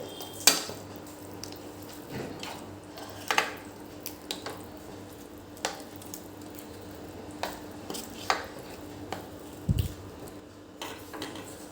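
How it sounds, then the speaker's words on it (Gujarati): Vegetable manchurian balls tossed and mixed in a pan, with scattered sharp spoon-on-metal clinks and scrapes over a quiet background, fairly close. "હવે એની અંદર આપણે મંચુરિયન એડ કરી દઈશું એને મિક્સ આવી રીતે કરી લેવાના છે"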